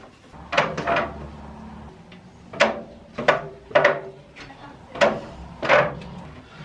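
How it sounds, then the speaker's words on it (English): A wooden drawer is worked in and out while furniture is moved, giving a run of about eight scraping, knocking pushes and pulls in irregular rhythm, close and moderately loud. "Let's start this day with a bit of drawer movement."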